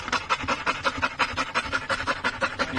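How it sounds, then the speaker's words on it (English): A dog pants rapidly, fairly close and steady, with rhythmic breathy huffs repeating about every quarter second with no voices over them. "So imagine that a dog is panting"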